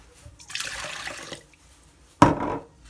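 Water pours into a stand mixer bowl over yeast and warm milk for brioche dough, a steady splashing stream for about a second, followed by a short sharp liquid splash and clatter.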